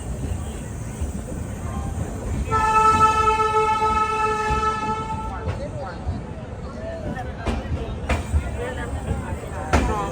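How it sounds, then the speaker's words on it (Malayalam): The Jhelum Express pulls into Gwalior station in Madhya Pradesh, sounding a long horn blast over rumbling wheels, followed by sharp clanks as it slows, with voices in the background. "ട്രെയിൻ ഇതാ മധ്യപ്രദേശിലെ ഗ്വാളിയർ സ്റ്റേഷനിലേക്ക് എത്തിക്കൊണ്ടിരിക്കുകയാണ്"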